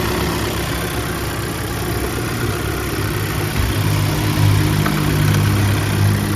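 A 2022 Volkswagen Tiguan engine with 90,000 km idles steadily nearby, a low continuous rumble with a slight swell toward the end, no voices.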